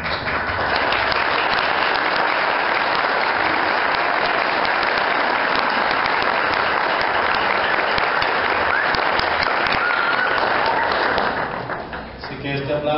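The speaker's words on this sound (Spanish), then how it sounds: "este aplauso es un aplauso de felicitación" A congregation or hall audience at a book fair applauds to congratulate a Catholic bishop, long sustained clapping that fades briefly before a voice returns at the end.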